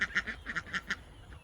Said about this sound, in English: And the ducks think it's feeding time.